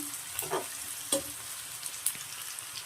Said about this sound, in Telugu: పచ్చిమిరపకాయలు ఉల్లిపాయలు కరివేపాకు వేస్తున్నాం కొంచెం ఫ్రై చేసుకుందాం